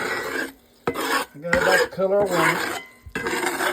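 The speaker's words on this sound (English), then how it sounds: "you're scraping the bottom constantly moving this around" A spoon scrapes the bottom of a pot while a brown roux is stirred constantly. The strokes come as several rhythmic, close rasping scrapes with a brief pause between bursts.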